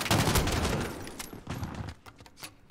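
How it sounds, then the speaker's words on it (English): Gunfire in the Call of Duty Modern Warfare campaign, a loud close-range blast and rattle that fades into scattered softer shots, with no voices. "I shot you with a shotgun?"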